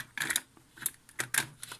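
A cassette tape is pushed into a Tascam 424 MKIII Portastudio with its case held open, giving a few sharp plastic clicks and clacks in quick succession, close and alone.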